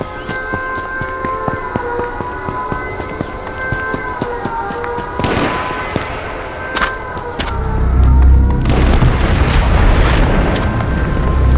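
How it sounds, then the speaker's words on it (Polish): Car exploding in the H1Z1 shooter game, a deep booming blast that swells into a loud sustained rumble and crackle after a stretch of lighter clattering game noise. "nasze auto wybuchło"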